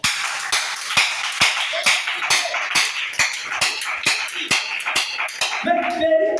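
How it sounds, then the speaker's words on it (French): A church congregation claps steadily in a rhythmic beat of sharp, evenly spaced claps, with a voice rising briefly near the end. "Acclamons très fort."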